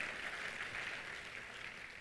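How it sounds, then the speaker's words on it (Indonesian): Loud, sustained applause from a congregation filling a church service, a dense steady wash of many hands clapping with no pauses. "Tepuk tangannya yang meriah buat Tuhan kita"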